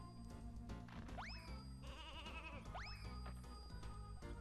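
Sheep bleat twice in the video game Space Station Silicon Valley, each a wavering, nasal cry rising then falling, heard over steady game music and ambient background.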